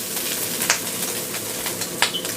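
Shredded meat for haleem frying lightly in a pan, a steady close sizzle with a few sharper crackles and pops, no voices.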